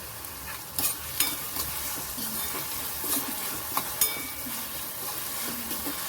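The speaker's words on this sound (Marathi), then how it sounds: "आणि छान परतून घ्यायचं आपल्याला" Onion and tomato sauté in a pan for matar methi kheema under a steady sizzle, with occasional spatula scrapes and clinks against the pan.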